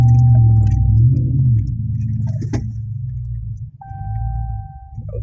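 A 2019 Ram 1500 pickup truck crawling off-road in 4-wheel drive on soft ground, its engine a steady low rumble throughout with a brief clatter midway and thin electronic chime tones at the start and end.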